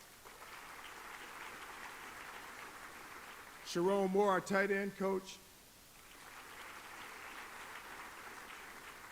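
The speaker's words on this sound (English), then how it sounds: "you're going to be clapping for a while" Audience applause at a college football kickoff luncheon as coaches are introduced, a steady broad patter of clapping before and after someone speaks over a microphone, the clapping briefly dropping under his voice.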